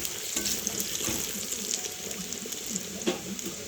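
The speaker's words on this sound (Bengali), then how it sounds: "কড়াতে আমি কালো জিরে আর রসুন দিয়েছি" Nigella seeds and garlic sizzle in hot oil in a kadai, a continuous crackling fry with occasional scrapes and clinks of a spatula stirring, close and moderately loud, no talking.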